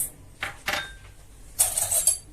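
A spoon or whisk clinks against a bowl while cake batter is stirred, giving a few scattered metallic taps followed by a brighter cluster of clinks, close and fairly loud, with no talking.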